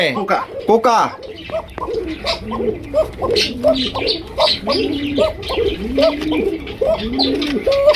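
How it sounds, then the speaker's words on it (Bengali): A pigeon sitting on eggs coos in repeated low, rolling phrases, close and steady, with someone talking over parts of it. "ডিম নিয়ে বসে গেল দেখছেন এরকমের লক্ষ্মী কবুতর"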